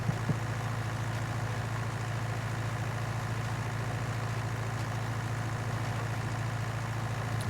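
A tractor engine idles steadily in Farming Simulator 19, giving a constant low rumble with no change in pitch across the whole stretch and no voices.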